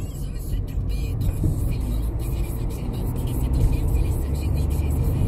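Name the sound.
car engine accelerating during driving test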